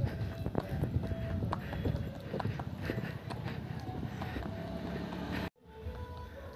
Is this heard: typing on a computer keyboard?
no